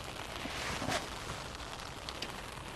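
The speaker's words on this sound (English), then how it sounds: "Rain, yeah. You hear this, right?" Rain falls at midnight in a Tokyo park, making a soft, even hiss of drops hitting surfaces. It stays faint and continuous with a few small taps, and no one speaks.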